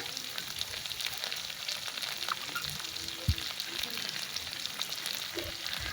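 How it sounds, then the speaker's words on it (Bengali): Dried fish frying with onion in hot oil, stirred in a pan: a constant soft sizzle with occasional scrapes and knocks from the spoon, fairly quiet and close. "শুটকিটা দিয়ে ভালো করে নেড়ে চেড়ে শুটকিটাকে গলিয়ে নিলাম"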